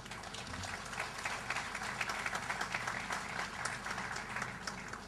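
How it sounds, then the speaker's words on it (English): Sustained applause from an audience at a formal event, many hands clapping in a dense, slightly uneven patter that stays fairly steady and moderately loud. "So a big applause to both of them."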